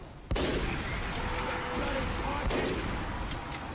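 A single sharp sniper rifle shot in Team Fortress 2, followed by continuous loud game noise with a second fainter report later on.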